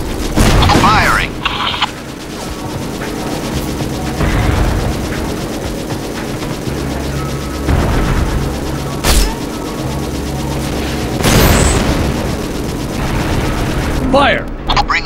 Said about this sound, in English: Bringing main gun to bear. Firing. Cannons armed.